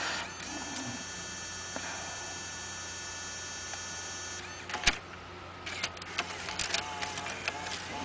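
An in-dash 6-CD changer mechanism ejects a disc, giving a steady electrical hum with a sharp mechanical clunk near the middle, then a run of small clicks and whirring ticks from the mechanism.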